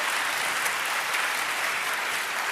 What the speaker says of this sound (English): Okay, that's an applause.